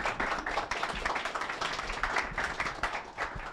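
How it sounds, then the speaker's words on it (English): Moderate, fairly quiet applause from a crowd after a Web3 infrastructure talk at Slush, a steady wash of overlapping claps heard at some distance with room echo. "Let's give a round of applause"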